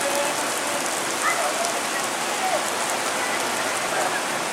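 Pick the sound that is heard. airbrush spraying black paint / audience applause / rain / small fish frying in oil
rain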